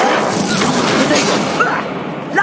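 A Confringo blasting spell explodes in a video game, a loud, dense burst of noise filling the short clip, with another sharp pop near the end.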